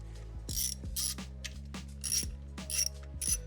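A ratchet tool works on 8 mm bolts on the bracket of a supercharged Range Rover, giving repeated close clicking ratchet strokes in quick bursts, clear and alone.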